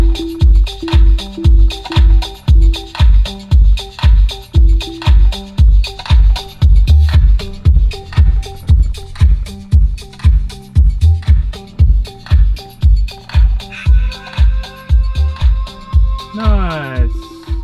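Deep, pounding bass thumps from a small subwoofer in a Toyota 86 fill the enclosed cabin in a steady rhythmic beat, loud and booming throughout, with music playing over them.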